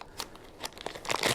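A plastic bag crinkles and crackles while a tripod is unboxed, with several close, sharp crunching bursts, the busiest toward the end.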